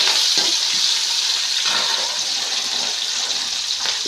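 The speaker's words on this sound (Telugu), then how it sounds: "కరివేపాకు వేసుకోవాలి." Curry leaves sizzle in hot oil with a bright, steady hiss and crackle that stays loud and continuous, broken by a few soft clinks and bumps, with no voice.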